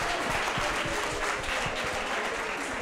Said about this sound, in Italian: Un applauso al docente e ai ragazzi.